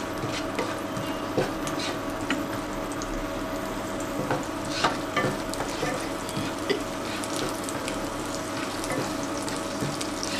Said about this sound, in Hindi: मैं इसमें गार्लिक डाल रही हूँ। इसको थोड़ा सा सॉटे करेंगे।